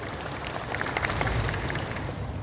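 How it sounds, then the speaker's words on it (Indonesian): An audience at a volunteer and health-worker appreciation event at Sentul International Convention Center claps in a soft, sustained patter that swells briefly in the middle, distant and moderately quiet with no talking over it. "tepuk tangan untuk Pak Deddy Kobusier"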